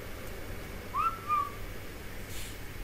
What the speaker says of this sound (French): J'ai vu ce que c'est, les cris, les sifflements.